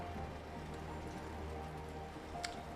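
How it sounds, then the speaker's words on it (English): Constant rainfall in Project CARS during a race after a pit stop, an even hissing wash over a low car engine hum, with one brief sharper tick near the end. "It started raining again after I make the pit stop."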